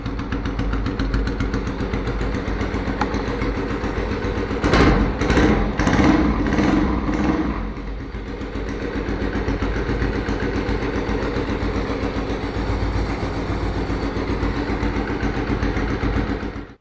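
A junkyard Ducati Multistrada 620 motorcycle engine idles loudly and steadily nearby. Midway through it revs briefly a few times, then it settles back to a constant idle before cutting off.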